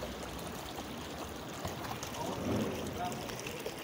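A small stream of water flows through a waterway in the Black Forest in Germany, a steady soft outdoor rush and trickle heard from close by, with no voices over it.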